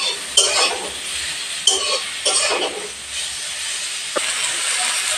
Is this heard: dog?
no